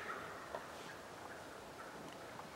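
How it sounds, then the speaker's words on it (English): Wild turkeys gobble during a spring hunt, repeated rough calls at a moderate distance rising over steady outdoor background noise, with no talking. "Now the other turkeys is gobbling."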